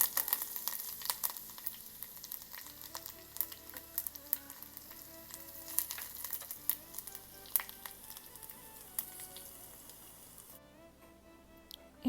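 Cumin seeds, curry leaves and green chili sizzling and crackling steadily in hot oil, a close, continuous fry with occasional stirring clicks.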